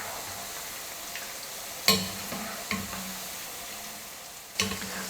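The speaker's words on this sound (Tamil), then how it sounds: "அப்பப்போ கரண்டி வச்சு திருப்பி கொடுத்தோம்னா எல்லா பக்கமும் நல்லா வெந்து வரும்." Okra pakoda frying steadily in hot oil, a continuous close sizzle broken by a few clinks and scrapes as a ladle turns the fritters.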